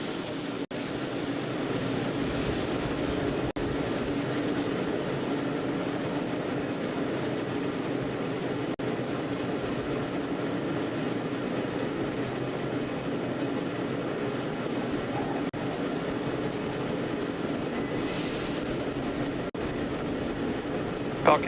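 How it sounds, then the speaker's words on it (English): Falcon 9 rocket on the pad before a crewed Dragon launch, giving a steady, loud broadband roar of venting gas that runs unbroken throughout, heard at a distance. "Call out to our crew there that loud venting is expected."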